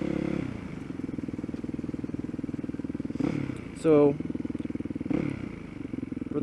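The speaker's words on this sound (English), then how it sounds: "for the motorcycle here, the old beast, got the Yamaha WR450F converted into a supermoto" A Yamaha WR450F converted to supermoto trim runs at a steady mid-level engine drone while ridden through city traffic. A voice speaks briefly over the engine, and a short squeal cuts through in the middle.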